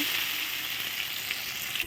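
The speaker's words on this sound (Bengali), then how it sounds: "এখন আলুটা ভেজে নিচ্ছি" Potatoes fry in hot oil with a steady, even sizzling hiss, close and moderately quiet, with no voices over it.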